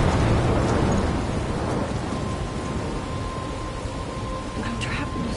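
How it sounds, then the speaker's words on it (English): Storm in the video game Life is Strange: loud, continuous rain hiss with a deep rumble of thunder at the start that rolls off and fades, steady downpour continuing throughout with no voices. "I'm trapped in a storm?"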